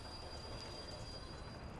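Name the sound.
train passing in Workers and Resources: Soviet Republic video game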